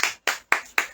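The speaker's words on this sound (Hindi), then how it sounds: "सब जन ताली बजाएंगे यीशु मसीह" A church congregation at a Tuesday night worship meeting claps in unison, four sharp, evenly timed claps close together and loud.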